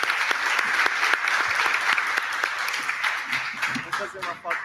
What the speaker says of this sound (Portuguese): Salva de palmas, senhoras e senhores.